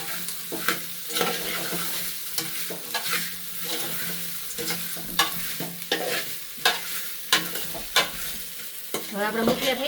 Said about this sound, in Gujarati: પણ આપણે હલાવી લઈશું